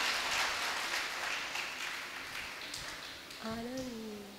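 Children at a religious question-and-answer session in Tikamgarh clap together in a dense, continuous round of applause for several seconds, then a voice begins speaking as the clapping dies down.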